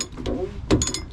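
A heavy wrench turns a fuel filter on a 3.0L Duramax Sierra, giving a short, close ratcheting click and mechanical clatter that lasts about a second.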